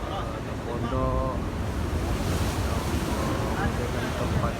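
Sea surf rolls against a cliff edge on the coast of Aceh, a steady broad wash of waves mixed with wind buffeting, with a voice speaking faintly underneath.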